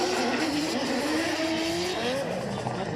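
The Cusco Racing GR Yaris drift car is heard at Suzuka as a continuous loud engine roar with rising revs, tires screeching under it and a commentator talking throughout.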